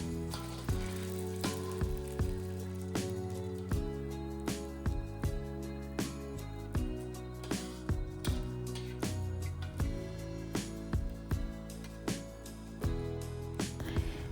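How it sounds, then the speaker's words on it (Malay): Anchovies sizzle and crackle steadily in hot oil, close up, with periodic clinks of a utensil and no voices. "bila ikan bilis ni dah masak dah garing boleh angkat dan ketepikan dulu"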